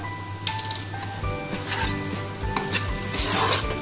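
A spoon stirs and scrapes through a pot of ghee and garam masala, with sizzling and repeated metallic rubbing over a steady low hum, close and fairly loud.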